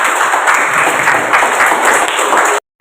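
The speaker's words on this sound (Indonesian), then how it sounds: "Tepuk tangan." Students in a school activity session clap together in dense, steady applause for a couple of seconds before it cuts off sharply.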